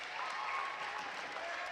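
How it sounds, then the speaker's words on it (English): Crowd at a women's rugby league match between York Valkyrie and Leigh Leopards applauds a player leaving the field, heard as steady, distant clapping across the stadium with a faint commentator voice beneath it. "Jazz Bell comes off to a fine round of applause and well deserved"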